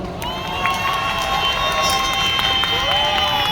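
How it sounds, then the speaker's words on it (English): An audience of students and guests at a school event welcomes a speaker with loud cheering, shouts and clapping, a bright crowd roar sustained throughout. "Let's welcome him with a round of applause."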